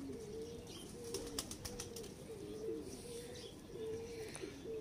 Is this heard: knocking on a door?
no